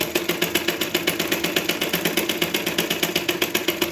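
Sewing machine stitching a blouse, running in a fast, even rhythmic clatter of needle strokes, close and loud, steady throughout.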